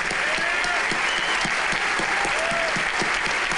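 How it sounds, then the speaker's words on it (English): Audience applause at a State of the City luncheon in a large hall, sustained crowd clapping with faint voices and whoops mixed in beneath the dense patter. "That alone is worth a round of applause."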